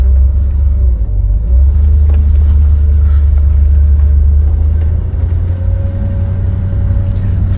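A 1967 Chevelle SS with its 396 engine on the move, giving a loud, deep, continuous rumble that holds steady throughout with no one speaking.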